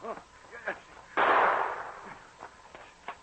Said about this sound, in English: And then Pierre heard shots